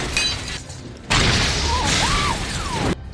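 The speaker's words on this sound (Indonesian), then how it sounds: "Saat di parkiran, sebuah mobil meledak dan diikuti ledakan berikutnya." Cars blow up in a parking lot during a film scene: a sudden loud blast with crashing, shattering debris follows a quieter stretch, then cuts off abruptly near the end.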